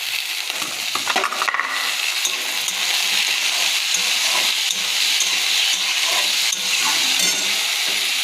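Potato, coconut and chickpeas fry in hot oil in a wok, giving a steady loud sizzle broken by scraping stirs and light clinks of the utensil against the pan.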